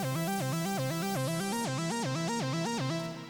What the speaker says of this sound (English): Right now we're selected in the up pattern